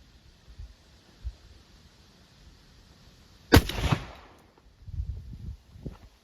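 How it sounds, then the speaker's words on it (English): A 12 gauge shotgun fires a single steel goose load of Blue Dot powder and 1 ounce of steel shot outdoors, one sharp, loud blast that decays over about half a second amid quiet rustling. "This is going to be the second shot of the exact same load."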